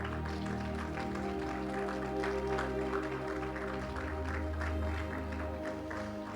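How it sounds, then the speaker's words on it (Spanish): A church congregation applauds at a Spanish-language service; the clapping is fairly soft and continuous, with sustained musical tones running underneath. "¿Cuántos le dan un aplauso a Jesús?"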